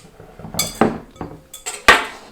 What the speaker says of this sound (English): Just go ahead and stir